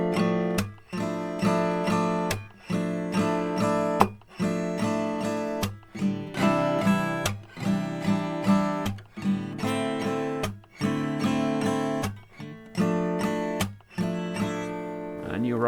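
Acoustic guitar strumming chords of a song in a down, down, clap, down pattern, with sharp percussive palm slaps on the strings recurring rhythmically between downstrokes, played close and clear.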